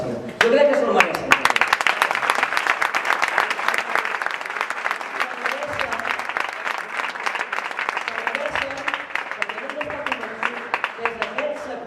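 Sustained applause from a crowd of supporters at an independence referendum result event, loud and dense clapping throughout, with voices speaking over it.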